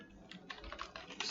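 Quiet typing on a computer keyboard while coding a Discord leveling bot in discord.py, a short run of soft, uneven key taps close up.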